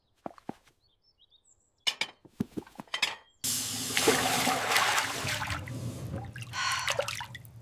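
Dishes being washed in cold conditions: scattered clinks and drips of a bowl and dishware, then running water pours steadily to rinse off the soap, fairly close and continuous until the end.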